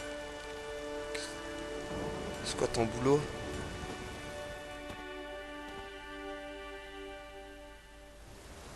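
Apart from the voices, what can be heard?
rain falling in a video game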